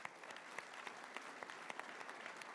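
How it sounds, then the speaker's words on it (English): Moderate applause from a summit audience for three speakers, a crowd of hands clapping with a few sharper claps standing out, fairly quiet and distant throughout. "please welcome me in giving a huge warm applause to our three amazing speakers"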